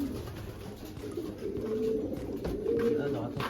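Pigeons coo in a stock loft of breeding pairs, soft repeated throaty calls close by, with faint voices murmuring in the background.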